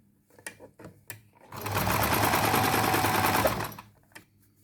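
Fast sewing machine running a continuous stitching burst on a dress sleeve, a steady rapid mechanical rattle lasting about two seconds, close and clear, with soft handling clicks before and after.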